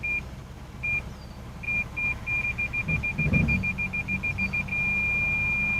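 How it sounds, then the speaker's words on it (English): Rear park sensors on a 2012 Lexus RX350 beep as the vehicle backs toward another bumper, starting as spaced single tones, speeding into a rapid series, then merging into one continuous tone over a low engine hum. "The optional backup camera allows the driver to get a very comfortable wide-angle view of all objects behind him before proceeding, with our optional rear park sensors."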